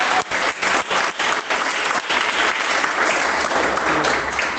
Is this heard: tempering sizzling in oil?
no